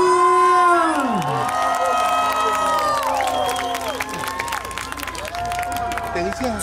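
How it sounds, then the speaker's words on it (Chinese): A crowd at a 2019 Taiwanese-language classic song concert in Zhongli screams and cheers loudly, with high shrieks and whistles rising and falling over a broad roar, mixed with applause and a voice talking. "今晚咱就用你的破声，啊，搁有咱的尖叫声"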